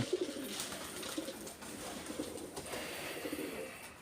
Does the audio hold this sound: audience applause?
no